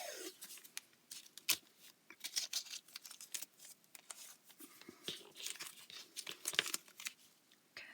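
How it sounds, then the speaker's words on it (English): Clear tape pulled off a roll and torn while decorating a scripture journal page with clip pockets: a steady run of close, crisp crinkling and ripping bursts, with no talking. "I'm going to use some of this tape across the front."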